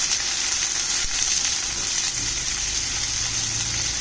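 Ginger, garlic and green chillies fry in a pan with a steady, bright sizzling hiss that carries on evenly at close range, with no one talking.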